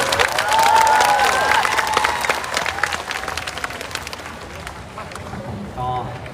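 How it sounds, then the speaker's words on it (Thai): A crowd applauds at a Thai school music contest, with dense clapping that gradually thins and fades, with some background voices and cheering mixed in. "ขอเสียงปรบมือให้กับน้องๆอีกครั้งหนึ่งครับ"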